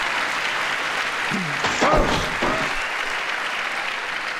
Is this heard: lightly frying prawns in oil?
no